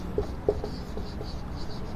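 Writing on paper or a board makes a brief series of soft, close scratchy strokes in a quiet room, with no voice.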